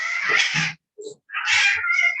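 A house cat meows loudly and close by, two drawn-out, whiny cries separated by a short chirp, with no talking during the calls.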